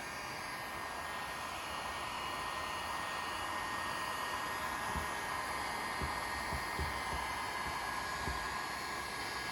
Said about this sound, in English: we're going to go over it again with the heat gun because we want to make sure that this gets a good bond